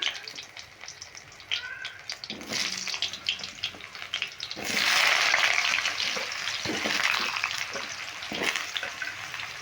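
Washed, cut potatoes go into hot spiced oil for a vegetarian cabbage curry, starting with light stirring scrapes and clatter, then swelling into a loud, hissing sizzle that stays steady close by, with no talking.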